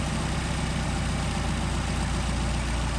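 A Mercedes 190SL engine with twin Solex carburetors idles steadily close by, a smooth, even low rumble with no voices.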